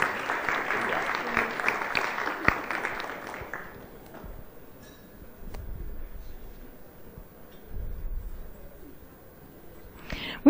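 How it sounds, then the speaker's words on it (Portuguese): An audience claps at a Brazilian council election debate event, dense applause filling the first few seconds and then fading to scattered claps and room noise. "Uma salva de palmas a Michele."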